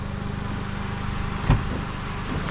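A car engine idles with a steady low rumble and a single soft thump partway through.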